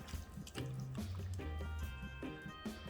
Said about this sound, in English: Pour the liquid off into a pot